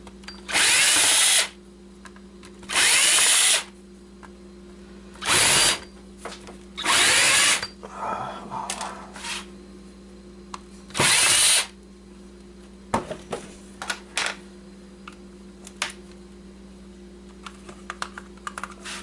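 Power drill backing screws out of a computer keyboard being taken apart for scrap: several loud whirring bursts about a second long with pauses between, then light clicks and clatter of parts being handled.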